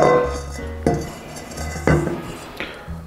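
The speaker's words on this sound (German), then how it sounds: "Dann nehmen wir uns noch eine saubere Schüssel, ein bisschen Öl hinein" A clean bowl is handled while oil goes in to prepare it for bagel dough, producing a few close, hollow clunks and clinks of the bowl against the counter and utensils.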